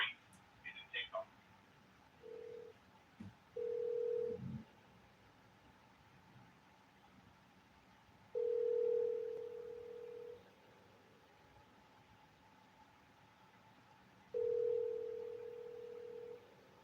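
A telephone ringback tone repeats faintly on a call, a few steady beeps spaced out over quiet line noise.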